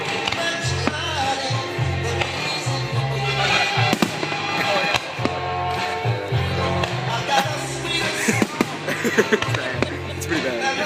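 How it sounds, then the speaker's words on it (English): Fireworks show at Wolf Trap bursting in rapid, continuous crackling and popping, dense and loud throughout, with voices faintly under the din. "I'm going to watch fireworks."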